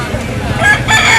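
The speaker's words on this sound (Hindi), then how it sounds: "ये देखे कुक्कड़ भी है यहाँ पर, मुर्गे वगैरह भी आते हैं इधर।" A rooster crows loudly and close by among fowl at a crowded poultry and bird market in Lahore, a single drawn-out call rising over a busy background.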